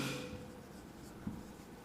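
Chalk or marker scratches faintly across a board during a maths lesson on right triangles, with short soft strokes and a small tap near the end, very quiet.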